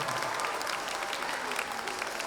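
Steady, dense applause from a youth conference audience for newly certified teachers. It rings out as an even wash of many hands clapping at moderate volume throughout, with some crowd noise mixed in.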